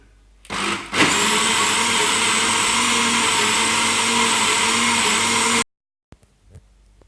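Blender beating the remaining milk mixture for a tres leches cake, a loud steady motor whine running for about five seconds after a brief start-up, then cutting off abruptly.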